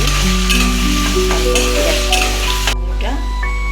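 Potatoes frying in oil in a pan for homemade chowmein, a steady close sizzle with stirring scrapes, under a constant low electrical hum and some faint background talk.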